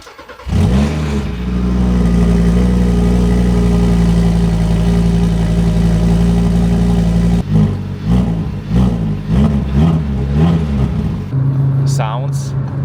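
An Audi RS3's five-cylinder engine cranks and starts from cold, settles into a loud steady idle, then revs up and down a few times, close by.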